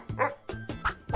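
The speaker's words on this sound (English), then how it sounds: "Dogs are humans' best friend." A dog gives a few quick, yipping barks in a short run, close and clear with no talk over them.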